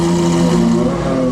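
Supercar engines, among them a Koenigsegg and an Aston Martin Valkyrie, drone steadily as the cars pass by, a loud sustained tonal roar filling the whole moment with no voices.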